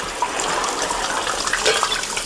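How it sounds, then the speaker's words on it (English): Water begins rushing through newly thawed household pipes, a steady hissing flow like an open tap filling a basin, continuous and moderately close for the whole stretch. "I think the water's starting to flow."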